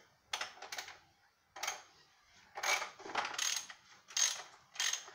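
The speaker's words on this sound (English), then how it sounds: "So we're going to go ahead and tighten this filter up." A ratchet wrench tightens the oil filter on an Ecotec engine of a Chevrolet Cavalier, giving short bursts of quick metallic clicking separated by pauses, close and fairly quiet.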